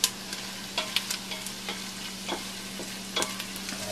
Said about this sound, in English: You can see what our vegetables look like sauteed.